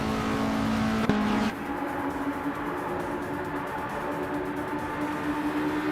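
A 1981 Metal X MTX-1 Auto race car in a racing game hums with a steady engine drone, which shifts to a lower pitch after a brief click, then holds an even, continuous whir with faint traffic noise.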